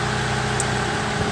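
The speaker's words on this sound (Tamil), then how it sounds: "இது எடுத்தாலும் இன்ஜின் மிஸ்ஸிங் காட்டுது." A Mitsubishi Lancer engine idles roughly with a misfire, a steady low chugging hum with slight unevenness in the beat, heard close and alone.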